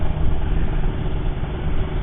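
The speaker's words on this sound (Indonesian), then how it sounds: "kalau denger suara knalpot racingnya tuh kemerincing itu gila lah, kayak naik motor MotoGP" A steady, rumbling engine drone from a Kawasaki Ninja RR motorcycle with a racing exhaust runs throughout, low and continuous with no clear revs, close by and fairly loud.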